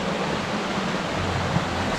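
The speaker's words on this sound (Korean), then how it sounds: "여기 폭포 좀 보세요. 폭포." Waterfall in a Seoraksan mountain valley with autumn foliage, a steady broadband rush of falling water heard from a distance, continuous and even with no voices.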